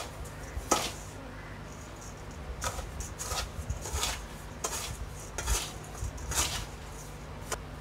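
Rava laddu mixture with cardamom, raisins and cashews being stirred in a pan, a spoon scraping and clinking against the metal in a steady series of close strokes with no talking.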